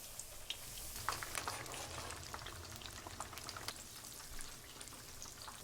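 Eggplant (baqlajan) sizzling in a little oil for makluba, a steady crackling spatter with scattered sharp pops, close and moderately quiet, no talking.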